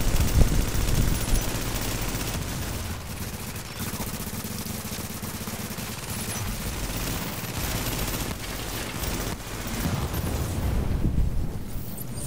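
Enemy turret gunfire in The Division during a Last Stand match: dense, continuous bursts of automatic fire and blasts crackle throughout, loud and chaotic, with overlapping shots and booms from several directions.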